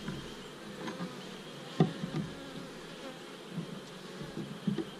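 Honeybees buzz faintly and steadily at an open beehive while frames and feed combs are moved, with a few sharp knocks from handling the wooden hive.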